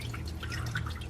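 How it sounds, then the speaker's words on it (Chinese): Rinse water drains from a handful of washed mung beans, a steady close trickle with small dripping splashes and no talking. "抓3把绿豆，然后把它们稍微洗一下，然后倒掉"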